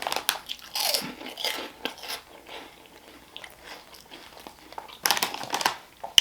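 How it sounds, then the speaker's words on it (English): Close, loud bites and crunches into seasoned Andy Capps onion rings, crisp crackly snaps in bursts with chewing and a crinkling snack bag between them. "Good crunch, perfect texture."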